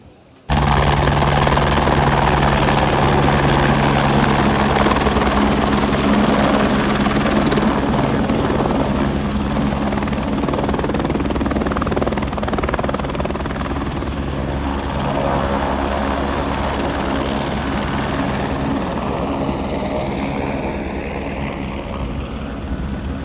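A helicopter on the Kedarnath pilgrimage route drones loudly and steadily nearby, its rotor thumping continuously for a long stretch and easing slightly toward the end.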